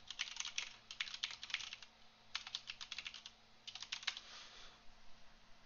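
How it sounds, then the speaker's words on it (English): Keys clack in quick bursts on a computer keyboard as a search is typed into a web browser, three runs of rapid taps separated by short pauses, close and clear with no talking. "let's start by going to our favorite browser, and we'll just type in Visual Code download."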